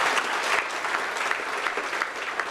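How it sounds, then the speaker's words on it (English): An audience at a startup pitch-night panel event applauds, dense sustained clapping from a full room, loud and continuous throughout. "Ladies and gentlemen, a round of applause for Jules."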